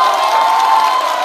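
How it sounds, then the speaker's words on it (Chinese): A stand-up comedy show audience breaks into loud, sustained cheering and applause, a dense close wash of crowd noise with no single voice standing out. "给我们的掌声"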